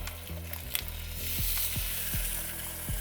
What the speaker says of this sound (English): our oil's nice and hot, we're gonna put that down in the pan